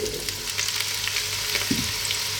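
Onions and sweet potatoes sizzle as they drop into hot sunflower oil in a soup pot, a steady close frying hiss with a brief clatter near the end.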